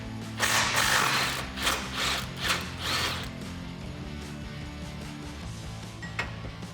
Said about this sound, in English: Grab an 18mm socket and get these out.